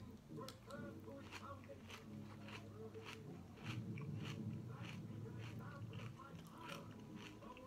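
Someone crunches through a hard, rocky Vector breakfast cereal, with repeated bites and chewing sounding close and steady while talk runs over it.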